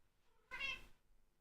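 A pet cat lets out one brief, clear meow close by, roughly half a second long, surrounded by near silence.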